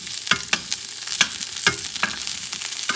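Cauliflower browns in a hot pan with oil, a steady close sizzle broken by sharp scraping clicks of stirring roughly every half second, with no talk.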